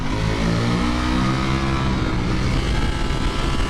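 A 200-horsepower Ducati motorcycle accelerates on a race track at World Ducati Week, its engine roaring loud and close with rising pitch as it revs through the gears, no talking.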